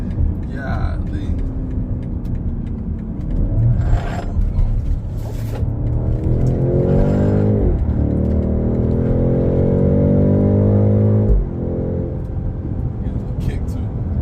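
Engine of a 2024 BMW X7 M60i accelerating, heard from inside the cabin as a steady rumble with a rising and falling whine while the SUV picks up speed, under continuous talk from the occupants.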